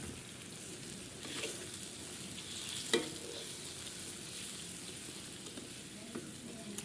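Chicken bhuna fries in a pan just after ground garam masala is added, giving a steady, even sizzle with a few faint clinks as it is stirred.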